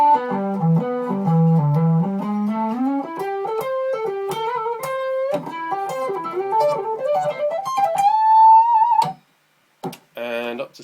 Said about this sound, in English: So the lick in its entirety at a slower speed sounds something like this.